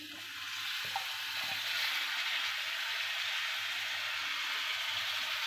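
Dried shrimp hiss in onion masala tempering, a steady broad frying sizzle running evenly throughout with a faint clatter near the end; no talking.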